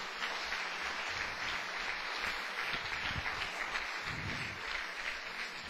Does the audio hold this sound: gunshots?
no